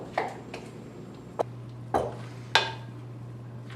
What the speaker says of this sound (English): now we're just gonna stir this up